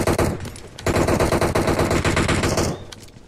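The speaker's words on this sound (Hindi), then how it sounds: "भाई क्या डीबीएस से मार रहा है वो" Rapid gunfire from a DBS double-barrel shotgun in PUBG Mobile, loud dense bursts of shots filling the moment with a brief gap partway, no talk over it.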